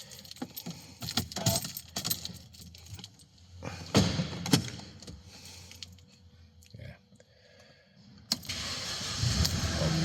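A Mercedes with an O2 sensor fault and engine warning light is started in a workshop: keys and clicks, a brief cranking, then the engine catches and settles into a steady idle, with some talk earlier.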